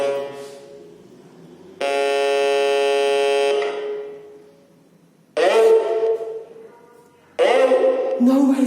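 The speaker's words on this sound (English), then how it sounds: "So Russian buzzer's buzzing." A harsh, steady buzzer alarm in an abandoned hospital drones for about two seconds, followed by two shorter bursts of a grating tone, with quieter speech-like sounds between them.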